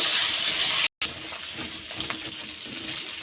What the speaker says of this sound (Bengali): পেঁয়াজ বাটা ও আদা রসুন বাটা তখন না কাঁচা গন্ধ চলে যায় ততক্ষণ ভালো করে নেড়ে তেড়ে ভেজে নেব